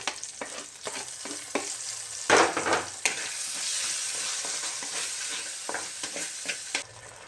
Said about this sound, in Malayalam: ഞാനിനി ഇതാ തക്കാളി ഇട്ട് കൊടുക്കുകയാണ് കേട്ടോ